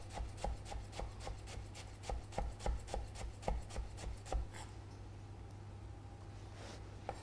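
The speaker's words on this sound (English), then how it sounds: "all we're going to do to get it nice and fine is just chop through the shallot" Knife finely chopping a shallot on a board, a quick run of rhythmic sharp taps for about four seconds before the cutting stops, faint and close.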